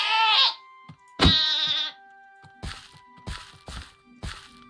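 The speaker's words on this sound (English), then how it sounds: "we're gonna be attacked by a goat again" A goat in the Minecraft StoneBlock 4 modpack lets out two loud, wavering bleats close up, followed by a few soft thuds and crunchy footstep-like hits, with no talking.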